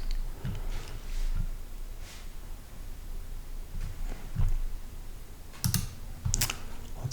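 Repeated clicks from a computer mouse and keyboard during an OAuth login demo, heard as a few sharp, near, moderately quiet taps spread irregularly over a soft room background with no talking.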